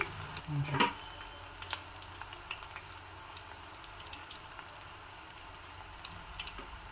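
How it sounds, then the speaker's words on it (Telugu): Onion rings frying in oil over a medium flame, a soft steady sizzle with faint crackles and one brief louder stir or clatter near the start; no talking. "ఆనియన్ రింగ్స్ని గోల్డ్ కలర్లో వచ్చేంత వరకు వేయించుకోవాలి"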